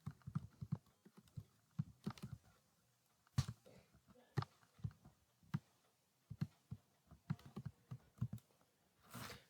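C code being typed on a computer keyboard, quick bursts of close, crisp key clicks separated by short pauses, with a heavier thump near the end.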